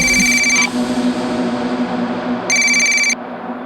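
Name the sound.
phone ringing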